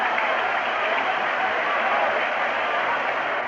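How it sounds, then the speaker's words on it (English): A big crowd at Shea Stadium during a Mets–Pirates baseball game makes a steady, dense roar of cheering and clapping, loud and continuous with no single voice standing out. "Big crowd at Shea Stadium."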